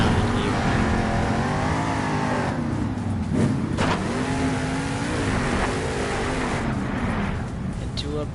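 The Monster Mutt monster truck engine revs loudly and continuously at a Monster Jam show in Wichita, rising and falling with tire squeals and a sharp clatter, under an announcer's commentary over the arena.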